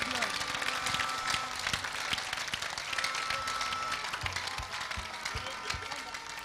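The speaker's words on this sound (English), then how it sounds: "Clap for Jesus, clap for Jesus" A church congregation applauds in a dense, sustained wash of clapping, with voices and a loud preacher's speech running over it throughout.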